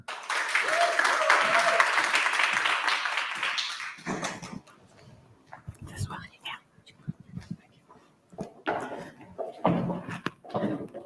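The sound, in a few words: audience applause welcoming speaker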